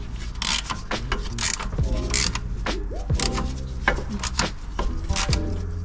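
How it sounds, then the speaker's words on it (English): Working on a Suzuki Carry during a timing belt replacement, someone turns the engine over by hand, making a series of close mechanical clicks, ratcheting and rotating clunks in an irregular rhythm. "it's a good idea to rotate the motor a few times to make sure no valves are hitting"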